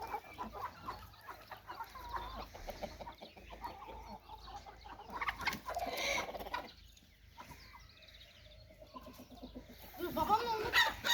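Chickens cluck close by, with bursts of clucking and squawks, a quieter stretch midway, and a voice briefly talking among them.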